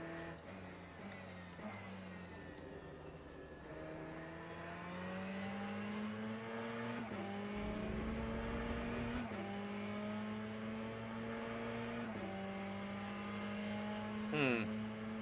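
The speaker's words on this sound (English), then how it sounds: "The fucking hypercars come at just so fucking quick" Hypercars racing at Fuji circuit in a video game co-op mode, a sustained engine drone rising in pitch through gear changes, with cars closing in and passing quickly, and people talking over it at times.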